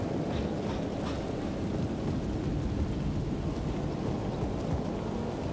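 Heavy rain pours in Alan Wake 2 as a dense, constant wash of noise with a low rumble beneath it, suggesting distant thunder. No one speaks over it.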